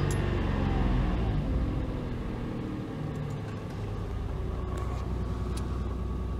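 A Peugeot 107 engine turns over and starts, settling into a steady low rumbling idle heard close up, with continuous engine drone throughout.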